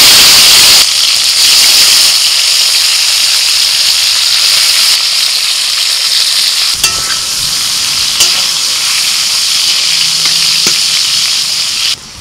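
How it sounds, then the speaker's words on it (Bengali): Salted, turmeric-coated bitter gourd hits hot oil in a pan and sizzles loudly, a dense, continuous hiss of frying with occasional stirring scrapes and no voices. "নুন হলুদ মাখানো করলাটা দিয়ে দিচ্ছি।"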